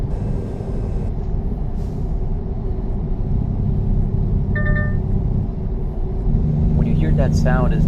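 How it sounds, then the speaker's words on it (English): Lane departure warning in American Truck Simulator, heard as a short electronic tone pattern partway through, over a steady truck engine and road rumble, with an air brake hiss near the end. "that sound is the lane departure warning."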